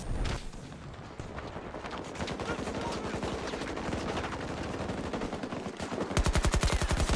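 Rapid automatic gunfire in Battlefield 2042 on the Arica Harbor Rush map, bursts crackling almost nonstop with a sharp, heavy volley near the end, mixed with game noise.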